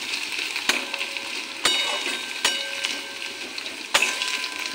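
Spices sizzle steadily in a hot pan with turmeric, salt and chillies, while a spoon scrapes and clinks against the metal in several sharp, separate strokes; the frying sounds close, with no talking.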